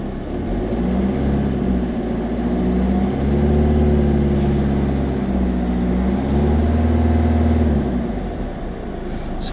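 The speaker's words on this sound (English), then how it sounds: "Let's give it a couple of revs." A Peugeot engine idles low, then revs up in a few rising and falling surges, loud and close, with a steady rumble underneath.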